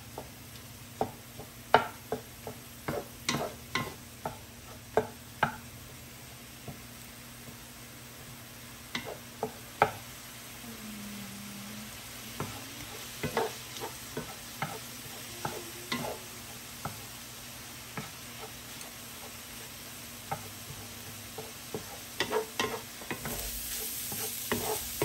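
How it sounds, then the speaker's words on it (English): Food in oil gives a steady low sizzle while it is broken up and fried, with a utensil tapping and scraping the pan in irregular close clicks throughout and no voices. "I'll break this up a bit and let it get a little toasty in that oil."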